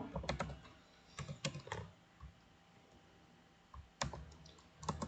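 Code is typed on a computer keyboard in quiet, close bursts of key clicks separated by short pauses, with no talk.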